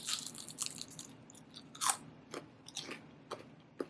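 Someone bites into oil-free, air-fried potato chips, giving sharp, close crunches in several separate bursts followed by softer chewing, with no talking.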